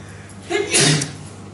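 A single sharp sneeze, a quick inhale building into a loud burst nearby.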